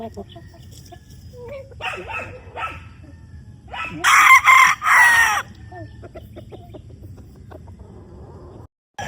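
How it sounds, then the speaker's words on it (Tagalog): A rooster on a farm lets out one loud, close crow in the middle, with scattered clucks and soft farmyard noise around it. "May tilahok na."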